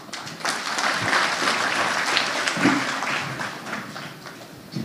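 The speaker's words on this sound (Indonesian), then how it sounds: "Udah kali tepuk tangan buat mereka." Applause from a church congregation for performers, a steady dense wash of clapping that swells and holds throughout, fairly close and with no talk over it.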